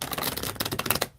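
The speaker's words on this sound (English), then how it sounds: "I'm going to do one more shuffle." Tarot cards being shuffled by hand, a quick burst of crisp, rapid riffling clicks and flutters lasting about a second, close and fairly loud, ending abruptly.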